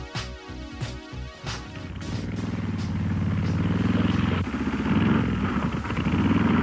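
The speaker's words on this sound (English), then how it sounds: "riding this streamlined motorcycle powered by a 61 cubic inch overhead valve engine" A Harley-Davidson streamlined motorcycle with a 61 cubic inch overhead valve engine rumbles loudly and steadily, its engine growl building after a few sharp clanking hits at the start, with no one speaking.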